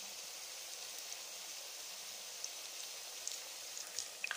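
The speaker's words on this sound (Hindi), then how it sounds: "इन्हें घी में हल्का सा फ्राई करेंगे।" Gram flour (besan) pieces frying gently in hot ghee, a faint steady hiss with occasional soft pops and crackles.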